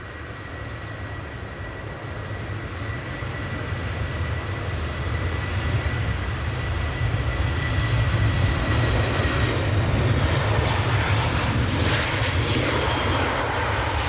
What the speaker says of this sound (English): the Smart Wings is making an immediate departure